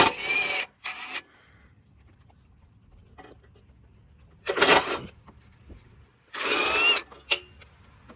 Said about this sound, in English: So just undo the 4 bolts.